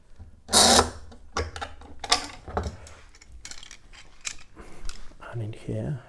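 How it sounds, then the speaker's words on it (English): A series of sharp clicks, knocks and rattles comes from clamping a wooden jig for classical or flamenco guitar rosette tiles into position, close and moderately loud, with someone talking between the handling sounds. "I'm going to clamp it in position"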